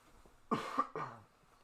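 A short, close cough, two quick raspy bursts in a row, then quiet.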